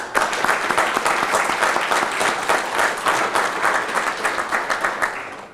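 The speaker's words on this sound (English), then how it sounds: "So just a round of applause." Loud, sustained applause from a sizable crowd at a fire academy graduation, a dense steady patter of clapping that continues throughout before easing slightly at the end.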